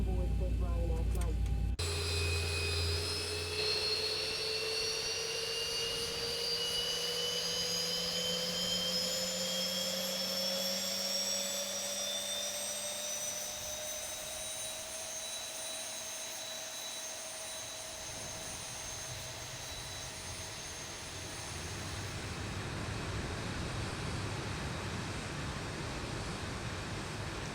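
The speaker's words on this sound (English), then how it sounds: "That's engine 2 starting." A Boeing 737-800 jet engine in the X-Plane flight simulator spools up during start, a steady rising turbine whine with a low rumble that builds and holds loud and close for nearly half a minute.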